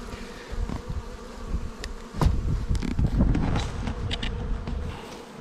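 Honeybees buzz around a hive entrance fitted with a protective muzzle against hornets. The hum is close and steady, with louder passes as individual bees fly near.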